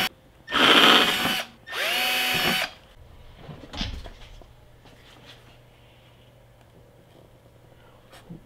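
A drill bores into the corner of a template hole cut in a plastic Ski-Doo Rev Gen snowmobile console, two short, close, whining bursts of about a second each, followed by faint handling clicks.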